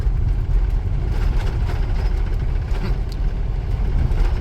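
Inside a Buick LeSabre on a rough road, a steady low road and engine rumble carries faint loose rattles and knocks from the cabin, continuous and close, with no talking.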